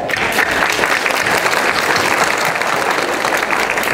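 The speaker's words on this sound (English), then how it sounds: "Please have a round of applause." Applause from the audience at a Houston police-community gala and association leadership installation ceremony, a dense, steady wash of many hands clapping that holds evenly loud for the whole stretch.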